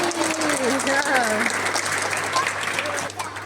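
Applause from an audience at a five-day fair, sustained crowd clapping throughout with a voice carrying over it.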